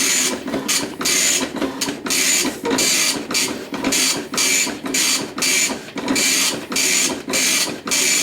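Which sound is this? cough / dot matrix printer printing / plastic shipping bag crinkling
dot matrix printer printing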